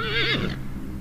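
A single horse gives a loud, close whinny with a wavering, descending pitch that quickly fades into background noise; no one speaks.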